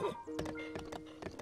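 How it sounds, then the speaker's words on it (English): A horse's hooves thud in a quick uneven rhythm as it is ridden down a cliff in Breath of the Wild, several close, heavy impacts over a steady tonal game hum. "riding this horse down a cliff"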